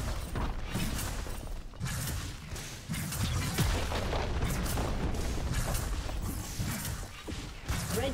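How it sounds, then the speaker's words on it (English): Turret destruction in League of Legends, a continuous dense clash of booms, crunching impacts and mechanical clanks layered with game effects, loud and sustained throughout without speech. "Red team's turret has been destroyed."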